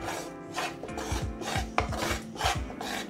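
A thick, hot mohanthal gram-flour mixture is stirred in a pan, giving steady scraping and rasping strokes in a continuous rhythm, close and fairly loud, with no voices.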